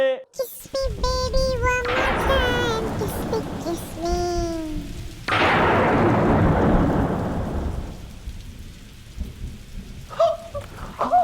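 A heavy thunderstorm roars with steady rain pouring down and big, rolling thunder crashes that surge midway and fade, while brief voices or singing sound at the start and the end.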